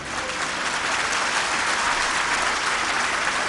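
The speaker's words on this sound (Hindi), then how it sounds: "तालियों में अभी दम नहीं है।" An audience at a Jain spiritual discourse claps vigorously, a thick continuous roar of many hands sustained at even loudness throughout.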